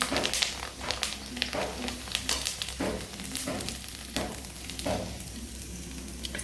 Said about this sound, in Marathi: तर कुरडया तळून घेते. कुरडई पण खूप छान फुलते.